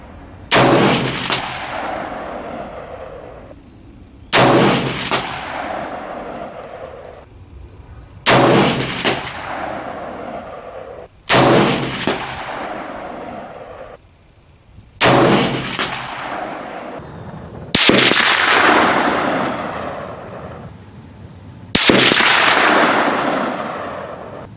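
An M1A rifle (Lencac Archangel) fires seven loud single shots at a shooting range, each sharp crack followed by a long ringing decay, spaced a few seconds apart.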